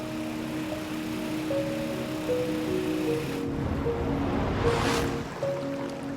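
Rushing river water at Lip Hee Falls on the Mekong, a steady broad roar of current that stays even and continuous, with a brief surge of spray partway through.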